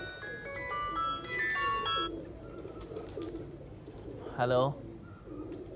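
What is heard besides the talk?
pigeons cooing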